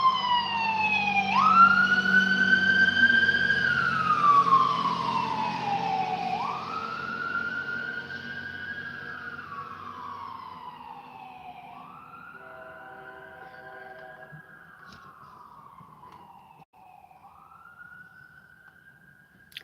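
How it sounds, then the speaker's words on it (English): Loud wailing sirens sweep up and down in long slow cycles, with more than one siren overlapping at first before fading into the distance. "Ridiculous how loud sirens are coming and stuff now."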